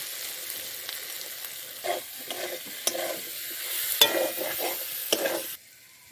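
Potato kofta masala with turmeric, salt and meat masala stir-fried in a pan, a steady sizzle broken by repeated scraping strokes of a spoon, close and fairly loud, with no talking.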